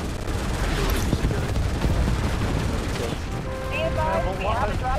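Continuous rapid gunfire from a gunner in the Starship Troopers: Extermination video game, dense and loud bursts running throughout, with a voice talking over the later part.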